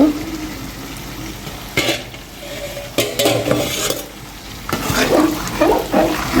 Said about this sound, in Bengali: মুরগির মাংস দিয়ে বিরিয়ানি রান্না করা হচ্ছে